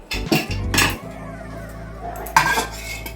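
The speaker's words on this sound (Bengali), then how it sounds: "5 মিনিট পর আমি এখন প্রেসারের ঢাকনাটা খুলে দেখাবো।" Metallic clanks and scrapes of a pressure cooker lid being opened after cooking lentils in a home kitchen, a few sharp knocks early, a quiet stretch, then another clattering scrape, close and fairly loud.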